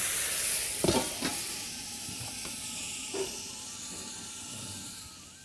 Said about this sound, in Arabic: ونحط لها شوية مرقة كده.